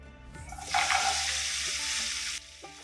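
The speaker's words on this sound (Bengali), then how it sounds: "এরপর আমি কড়ার মধ্যে কাজু বাদাম দিয়ে ভালো করে নাড়তে থাকবো" Cashew nuts frying in ghee in a nonstick wok give a steady, bright sizzle that swells in after a quiet start, holds for well over a second, then cuts off abruptly near the end.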